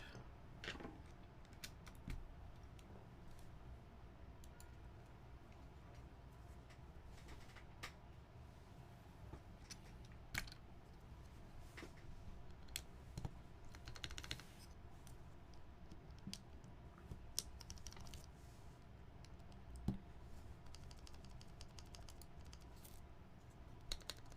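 A full-brass Paper Plane PP60 mechanical keyboard with stabilized keys is typed on, giving soft, irregular clacks and taps of varying strength over a faint background hum, steady for a long stretch with no talk.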